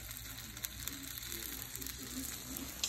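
Food cooking in a pan while flatbreads are being prepared, a quiet steady sizzle and crackle with faint occasional pops, no voices.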